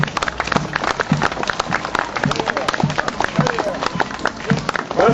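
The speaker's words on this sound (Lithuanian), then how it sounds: "Pasveikinkime plojimais." Crowd applause greets a passing parade of uniformed youth groups and riflemen's union members at a Lithuanian commemorative event in Ariogala, steady clapping mixed with footsteps and a voice over loudspeakers.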